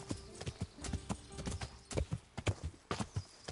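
A horse's hooves clip-clop in a steady walking rhythm in Kingdom Come: Deliverance, close and distinct over quiet ambience.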